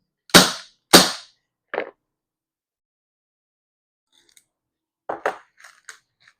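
A spring-loaded BB gun fires two sharp, close snaps in quick succession, followed by a softer click, then scattered faint mechanical clicks and rattles of the gun being handled.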